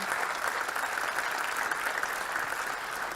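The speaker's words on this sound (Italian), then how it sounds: "Allora vi chiedo un applauso per Marcello Peghin alla chitarra" An audience at a Sardinian awards ceremony applauds a guitarist, steady dense clapping filling the room at an even level throughout, with no voices over it.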